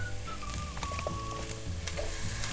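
Spices, including turmeric powder and salt, sauté in a hot pan for a potato, peas and carrot curry, making a close, steady sizzle with brief stirring clicks.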